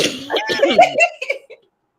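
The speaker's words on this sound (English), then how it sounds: "I'm still coughing." A short burst of rough coughing close to the microphone, several quick hacking bursts tapering off into silence.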